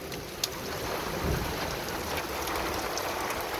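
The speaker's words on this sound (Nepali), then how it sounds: "आकाश गर्जनी असिना पानी।" A monsoon storm of heavy rain with hail and thunder is heard from shelter inside a house: an unbroken, dense downpour roars throughout, with a low rumble swelling briefly and no talking.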